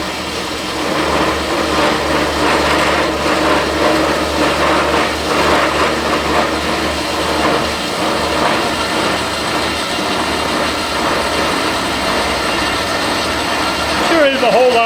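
A horizontal bandsaw cuts through metal in a workshop, giving a steady mechanical drone with a busy grinding texture that holds evenly at close range for the whole stretch.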